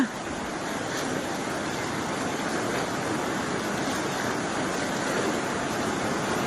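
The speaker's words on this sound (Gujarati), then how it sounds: "આ પાણીનો ફૂલ પ્રવાહ છે।" Floodwater of the Ojat river surges through a breached embankment near a mango orchard during monsoon rains in Junagadh, a steady, loud, broadband roar of rushing water that holds unbroken and close throughout.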